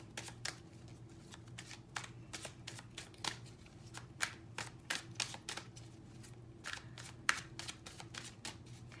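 A deck of tarot cards is shuffled by hand up close, producing rapid, irregular riffling flicks and slaps that continue throughout with no talking.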